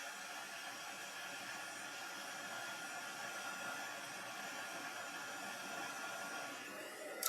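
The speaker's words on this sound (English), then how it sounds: "we're going to heat emboss again." Heat embossing tool blowing hot air over cardstock, a steady, even whooshing hiss lasting throughout, moderately quiet and unbroken, with a faint click at the very end.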